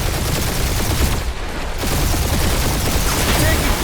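Sustained gunfire rattles loudly during a firefight in the video game Marvel's Guardians of the Galaxy, a dense barrage broken only by a brief lull.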